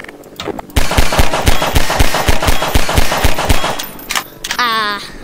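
Rapid SMG fire in Garry's Mod, a loud sustained burst of about a dozen evenly spaced shots lasting roughly three seconds, followed by a short voice near the end.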